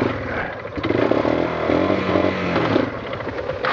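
A four-wheeler ATV engine sputters and falters close by, its rough, uneven running clattering for a few seconds as the motor dies out.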